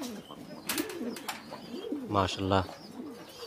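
A pair of modified Sartin pigeons nesting on two eggs give low, rolling coos that rise near the end, while a person briefly speaks nearby.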